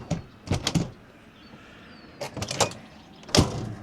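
A motorhome screen door is worked and latched shut, giving a few sharp clacks and rattles in short clusters, close and fairly crisp, with quieter pauses between.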